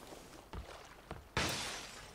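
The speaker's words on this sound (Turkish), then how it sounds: "Cam kıran biziz değil mi?" Glass shattering in PUBG: two short knocks on a window, then a loud crash of breaking glass with a tinkling tail of falling shards.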